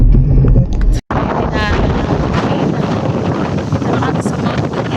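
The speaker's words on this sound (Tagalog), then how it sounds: "Ang lakas ng hangin pa." Loud, steady wind buffeting the microphone outdoors at a mountain campground, with a short dropout early on and a low rumble throughout.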